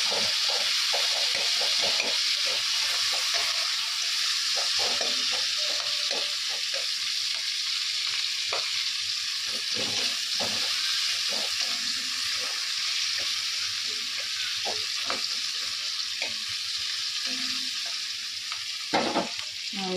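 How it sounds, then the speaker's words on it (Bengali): Onion and chilli fry with panch phoron in hot oil in a home kitchen, a steady loud sizzle that stays constant throughout, with frequent small clicks of stirring and no talking. "তেলের উপরে পাঁচফোড়ন, পেঁয়াজ, লঙ্কা"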